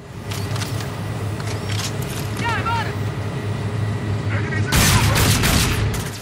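Gunfire in the Call of Duty Infinite Warfare campaign, a dense, continuous roar of battle with a sharp, loud burst of shots near the end.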